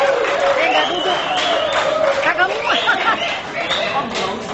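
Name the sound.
applause for the elected caretakers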